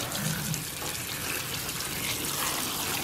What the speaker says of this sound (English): I'm gonna wash these off.